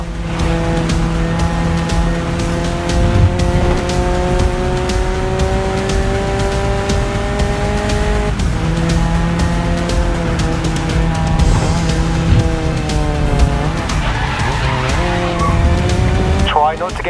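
A race car in a video game revs through its gears with sustained whining engine tones that rise and drop at shifts, tyres squealing through the turns, while a voice talks over the action.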